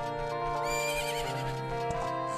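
Horse neighing in the video game Majora's Mask: a single loud whinny with wavering, shaking pitch lasting about two seconds, alone with no talking.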